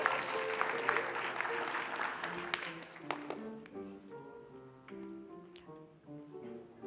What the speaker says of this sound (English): so we should clap.